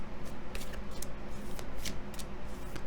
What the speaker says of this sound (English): Let me just shuffle a little bit more here.